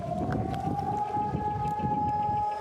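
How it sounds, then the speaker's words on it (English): Holocaust Remembrance Day siren sounding across Israel, a sustained, steady civil-defense wail held at one pitch over wind and background noise. "On Monday morning, a siren sounded throughout the country."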